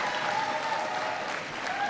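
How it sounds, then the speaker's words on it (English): Steady, even applause from an audience at a community college event, honoring the college president; the clapping fills the whole moment at a moderate, slightly distant level. "Give Lucille a big round of applause"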